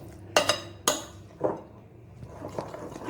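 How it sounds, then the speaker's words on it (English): Mince is mixed in a pot with a few sharp metallic clinks and knocks of a spoon against the rim, spaced irregularly with quieter stirring between, close and without speech. "now add 3/4 of the mince. Now the mince added, and again we will mix it well"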